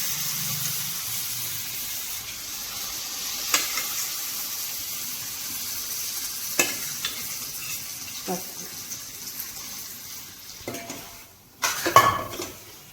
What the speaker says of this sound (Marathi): ते चिकनच्या मसाल्यात चांगले पीस परतवून घ्यायचे.